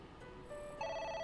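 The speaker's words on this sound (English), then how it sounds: "A phone. Should I pick it up?" Electronic telephone ring in the video game Somnium, a short synthetic tone that steps up into a brighter, louder ringing pattern, alone with no talk.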